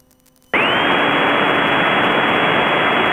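A light training aircraft's engine during stall practice, heard from the cockpit as a steady, loud broadband roar with a whine that starts abruptly and then holds constant without any talk.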